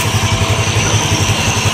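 A motorcycle engine runs close by with a loud, steady, rapid low throb, idling or ticking over on a muddy rural track with no voices.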